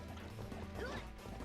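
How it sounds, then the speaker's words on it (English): A water gun fires at an enemy in the video game Ape Escape 2, giving a brief liquid splash and smack over continuous game music and ambience. "Use your water gun. You can actually just shoot him out."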